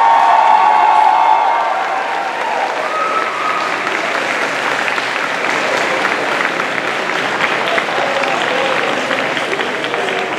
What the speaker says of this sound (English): So if I can please get a round of applause for everyone who entered tonight.